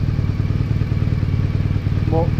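A BMW R 1200 GS motorcycle engine idles close by with a steady, low chugging rumble, still running slightly unevenly, and a brief voice is heard near the end.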